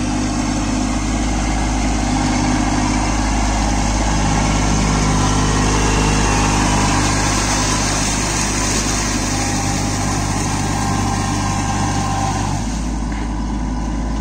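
A Kubota Neostar B2441 24 hp mini tractor engine runs steadily and loudly close by during field puddling work, a constant drone that drops slightly near the end.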